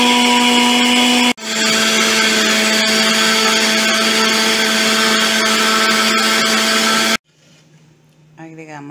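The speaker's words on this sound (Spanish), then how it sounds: "Colocamos el tomate, el ají y la cebolla en la licuadora con un poco de agua y licuamos." A blender whirs loudly as it purees tomato, chili pepper and onion with water, starting with a short burst, pausing, then running steadily for several seconds before cutting off, followed by faint talking.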